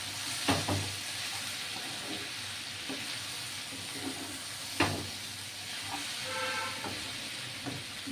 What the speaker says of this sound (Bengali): দেখুন, এটা ভাজা ভাজা হবে।